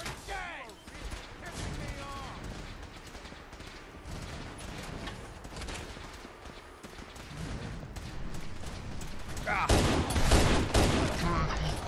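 Gunfire in the Fallout 4 video game, a steady stream of shots and bursts throughout, swelling louder near the end, mixed with game effects and a voice in the background.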